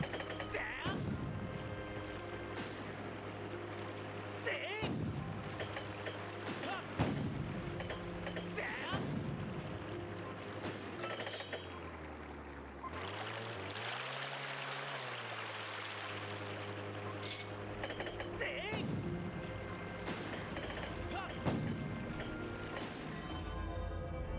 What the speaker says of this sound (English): We must pursue and keep pounding it with the cannons.